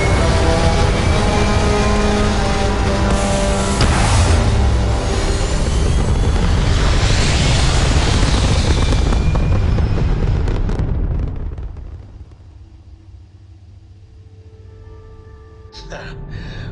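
Spaceship engines roar in the game Starfield as a vessel launches toward orbit, a loud, dense rumbling blast sustained for about eleven seconds, then dropping away to quiet hum, with a voice speaking over it.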